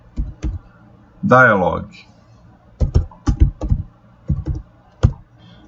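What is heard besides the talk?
typing on a computer keyboard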